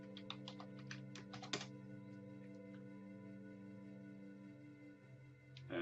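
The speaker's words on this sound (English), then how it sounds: "And let me type in ifconfig." Keys on a computer keyboard clack in a quick burst near the start while a command is entered on a Raspberry Pi 3 Model B, then fall silent over a steady background hum, with one last tap at the end.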